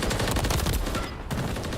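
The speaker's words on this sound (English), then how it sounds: "The amount of explosions on high rise." Dense, continuous gunfire and explosions fill a Call of Duty match on the Highrise map, with loud overlapping bursts and rattling shots packed together with no pauses.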